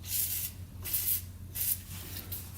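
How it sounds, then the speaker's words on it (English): WD-40 sprayed onto spark plug terminals on a tractor with a swapped-in 500cc Honda engine, three close hissing bursts of a few tenths of a second each over a low steady hum. "Old WD-40 on the terminals."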